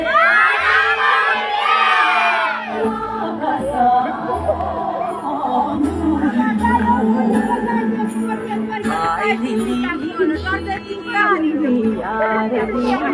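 At a 2025 Christmas caroling event in Isverna, a crowd of children and adults shouts together on a count, loud and close, in repeated surges of excited yelling mixed with cheering and chatter.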